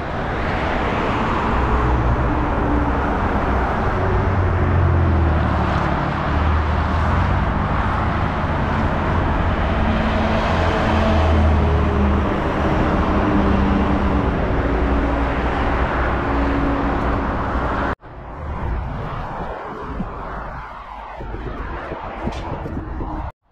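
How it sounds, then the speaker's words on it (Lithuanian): Car traffic near Kleboniškis forest makes a constant broadband roar of passing vehicles, loud and steady for most of the stretch before dropping to a quieter, more distant hum. "Triukšmo garsas automobilių."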